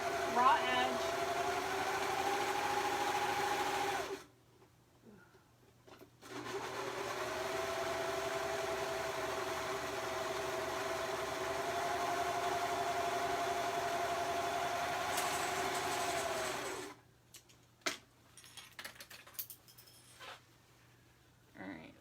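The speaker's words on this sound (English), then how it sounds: "now I'm just going to serge right down that raw edge" A serger (overlock sewing machine) trims and stitches down a raw fabric edge, with a steady, close mechanical whirring hum in two long runs separated by a short pause, then a few light clicks and taps.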